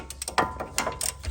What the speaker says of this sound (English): with the 19-inch socket, I'm going to bust loose the whole bracket that holds the brake caliper assembly onto the knuckle